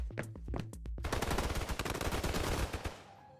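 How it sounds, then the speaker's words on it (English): Rapid automatic gunfire in the video game Snowbreak, opening with a few separate shots and then a dense, loud fusillade of overlapping bursts that tapers off near the end. "Gunfire cut me off"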